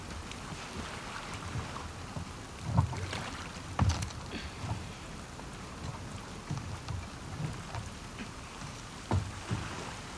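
Small boat moving through water in The Last of Us Part II, low sloshing and lapping under steady rain, with a few louder splashing bumps against the hull.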